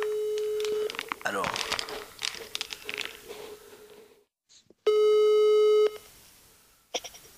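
Telephone tones while placing a call, with a steady repeating tone heard in bursts, interrupted by rustling and a brief spoken word, then a louder clean tone segment and a short final burst.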